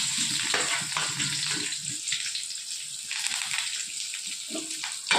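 Mustard seeds, small shallots and curry leaves frying in hot oil for a Madurai-style watery chutney, a steady crackling sizzle with sputtering bursts, close by and without talk.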